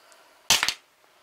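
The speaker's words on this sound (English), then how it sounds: "let's take it back in the other room and take a few shots with it" Gunfire aimed at a target down the room, indoors: a sharp, loud crack followed quickly by two more shots in a tight burst, then quiet with faint room tone.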